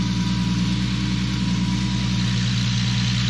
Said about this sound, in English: Exhaust is sounding good